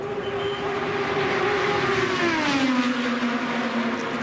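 IndyCar race car on the Indianapolis oval during Indy 500 qualifying, its engine holding a loud, steady high-pitched scream at speed that slides lower as the car passes and draws away, with no speech.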